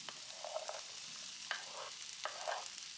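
Courgettes sizzle in a small pan, a soft steady frying hiss broken by a few brief stirring scrapes, close and fairly quiet.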